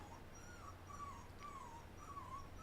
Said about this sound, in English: Yeah, you hear the puppy.